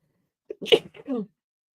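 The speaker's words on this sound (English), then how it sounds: "I'm going to sneeze." A single sharp sneeze, close and fairly loud, preceded by a quick intake of breath, in an otherwise quiet room.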